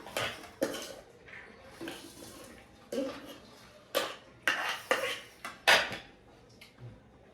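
Rice is served from pots as a family sits down to eat together, with intermittent sharp clinks and knocks of pots, dishes and utensils, close and moderately loud, with no talking.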